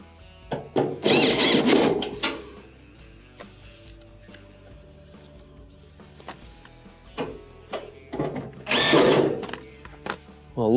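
A power driver whirs in two loud bursts, separated by quieter clicking and handling, as screws are driven into the console of a Maytag dryer.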